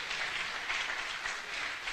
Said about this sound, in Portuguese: Dá um aplauso para Jesus, dá.